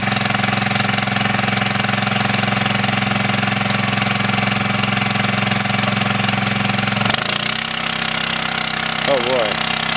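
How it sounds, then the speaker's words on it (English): An emergency fire pump engine drones loudly and steadily at idle, then its pitch and roar shift as it is throttled up partway through, with a voice speaking briefly over it. "we're going to throttle it up at the pump"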